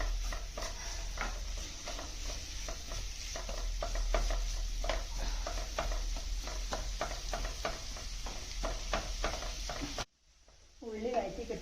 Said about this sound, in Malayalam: വലിയുള്ളി നല്ലോണം വഴറ്റണം.